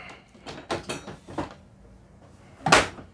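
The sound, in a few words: drawer opening on a Lagoon 380 catamaran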